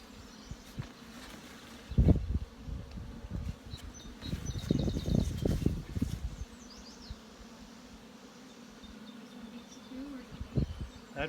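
Honeybees hum steadily around an opened hive while frames are worked, a close continuous buzz with some handling knocks and rustles layered on top.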